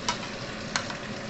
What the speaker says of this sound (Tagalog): Mix natin yung itlog.